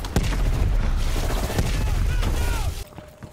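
Loud, dense bursts of gunfire and booming explosions fill a Call of Duty Black Ops Cold War campaign battle, sustained and close before easing off near the end, with voices mixed in.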